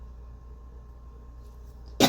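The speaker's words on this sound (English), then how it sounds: "Holy, even coughing hurts the side of my head." After near silence with faint background hum, a single short, sharp cough sounds close by at the end.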